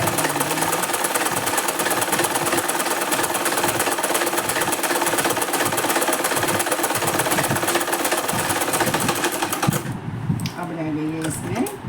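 A sewing machine stitches a blouse in a continuous loud, rattling run for about ten seconds, then drops off into quieter handling sounds.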